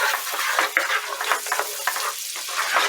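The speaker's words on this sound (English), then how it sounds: "I want to go ahead and add in a little bit of shallots" Shallots sizzle steadily in melted butter in a pan, a close, continuous crackling frying hiss with small stirring scrapes and bursts throughout.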